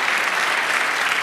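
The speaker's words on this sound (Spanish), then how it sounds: "Den un aplauso." A church congregation applauds, a steady, dense wash of clapping filling the whole moment without a break.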